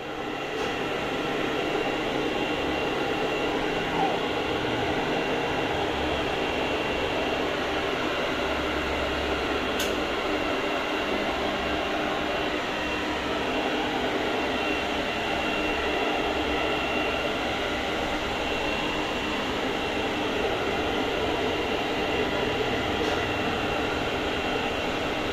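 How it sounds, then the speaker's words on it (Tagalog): A blower dryer runs steadily while a Shih Tzu is bathed and dried, giving a loud, constant airy roar that fills the whole stretch without pause. "Inaawi niya yung blower."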